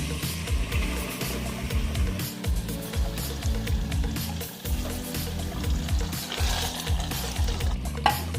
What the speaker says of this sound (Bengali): এবার আমরা এতে গরম জল, আমাদের পরিমাণ মতন গরম জল আমরা অ্যাড করব।